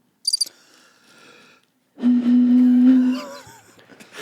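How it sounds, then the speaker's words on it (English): A cricket chirping sound effect plays as a short burst of high, rapid chirps near the start, followed by a long low sustained tone that wavers and fades. "Could I get some more crickets in the monitor?"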